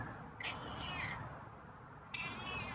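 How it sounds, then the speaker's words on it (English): A cat meows twice nearby, drawn-out cries separated by a short pause over a low background hum. "Yeah, I got some meows today."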